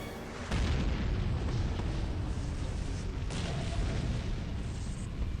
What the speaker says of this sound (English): Some of the explosions aren't very detailed also